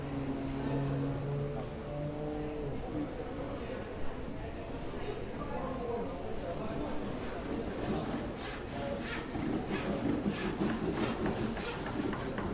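Pallet wood being sanded and sawn while building a bar, giving a steady rasping and rubbing that runs throughout under music and a narrating voice.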